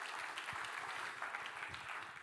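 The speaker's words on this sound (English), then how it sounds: "Round of applause for Irma, please." A live conference audience applauds a workshop participant after an award: broad, steady clapping from a crowd, fairly distant and even in level, running unbroken for a couple of seconds with no talk over it.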